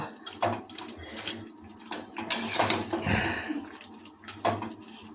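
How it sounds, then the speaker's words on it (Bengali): Fried rohu fish heads are stirred in a pan with a spatula. Close metallic scrapes and clinks come in irregular bursts over a quiet, moist sizzle. "ভেজে রাখা রুই মাছের মাথাগুলো যেহেতু এর মধ্যে রুই মাছের মাথাগুলো আমরা যোগ করেছি এটাকে ভালোভাবে আবার নাড়িয়ে নেব"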